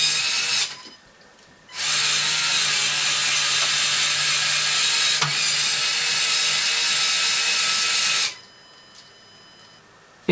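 A motorized remote-control Lego Mantsinen 90R port crane slews with a steady, close whirring of a small motor and gears. It runs briefly, stops, then runs again for about six seconds before stopping.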